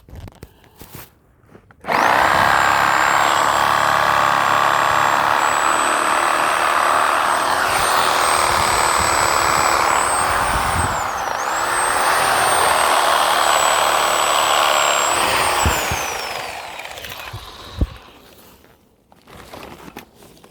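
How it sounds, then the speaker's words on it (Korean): A power saw cuts into the soil and roots around a golden pine being dug up for transplanting. It starts abruptly and runs as a loud, steady whine near the microphone for about fifteen seconds. Then the pitch drops and the sound winds down to quiet. "자, 한쪽 면을 잘랐고 나머지 반대면을 또 자르겠습니다."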